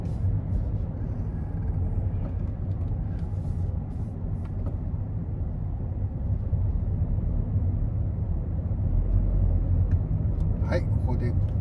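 A car drives along a road on Tsunoshima at dusk, giving a steady, continuous low road and engine rumble that stays even throughout, with a voice talking over it.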